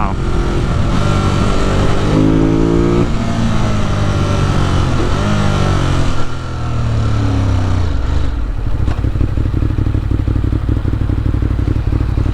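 A 2018 Ducati Monster 821 engine pulls hard in fourth gear while riding around New York City, a loud, close, continuous growl that climbs in pitch, drops at a shift, then drones steadily under heavy wind rush.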